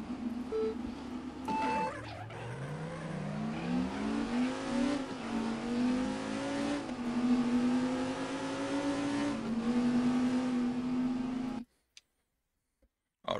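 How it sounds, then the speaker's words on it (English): Engine of a car in the Viper Racing video game revs up with a rising whine, climbs through gears in a smooth continuous drone, holds a steady high pitch, then cuts off abruptly to silence; loud and close with no talking. "we're going to just go ahead and do a quick race here"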